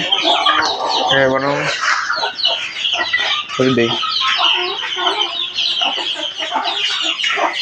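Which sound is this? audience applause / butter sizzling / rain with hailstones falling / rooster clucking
rooster clucking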